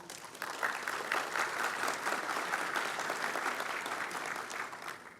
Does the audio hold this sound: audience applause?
yes